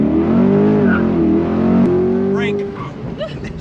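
A Corvette C8 launches hard under launch control, its engine roaring loud and close as it pulls through rising revs, then easing off while people talk inside the car.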